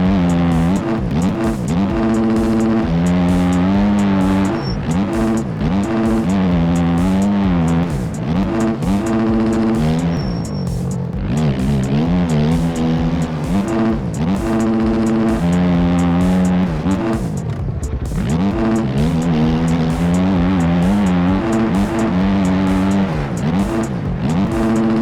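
Motocross bikes race laps on a track in MX Bikes, the engine screaming loudly and constantly, rising and falling in pitch with repeated shifts and throttle changes.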